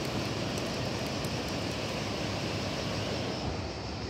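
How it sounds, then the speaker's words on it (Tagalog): Water rushing steadily beneath a bridge in Rome, a dense continuous roar with no pauses, loud and close. "kaya dito lagaslasan ang tubig"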